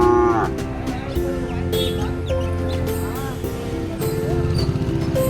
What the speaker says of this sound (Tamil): கண்ணுக்குட்டி பாரு, அழகாக இருக்குது